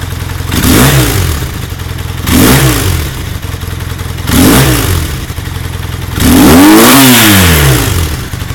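A 1978 Honda CB400T Hawk motorcycle fitted with pod filters, revved four times in a row while idling between; each rev climbs and falls sharply, and the last one is longer and higher, loud and close.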